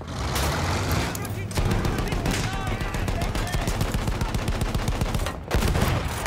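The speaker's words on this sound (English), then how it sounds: "Machine gun, let's tear it apart!" Battlefield 1 machine gun fire rattles in long, dense bursts with heavy low rumble, nearly continuous for several seconds and briefly pausing, mixed with other game battle noise and voices.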